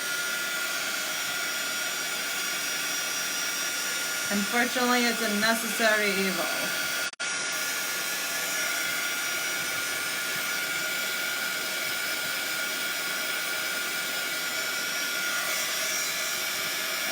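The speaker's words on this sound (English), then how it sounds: "I apologize about the sound now while I'm using this dryer heat gun." A heat gun blows with a constant loud whooshing hum throughout, while a person briefly speaks over it.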